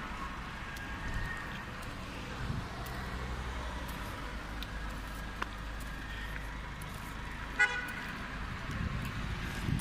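Inside a taxi moving through Amman city traffic: a low engine and road rumble runs throughout, with a few short car horn toots from nearby vehicles, one sharper honk near the end, no talking.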